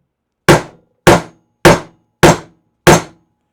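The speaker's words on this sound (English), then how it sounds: "Take this rubber hammer here. I hold it down here so it doesn't bounce on me." A rubber hammer strikes a budget Harbor Freight arbor press five times: sharp, loud thuds evenly spaced about half a second apart, each ringing briefly before silence, with no talking.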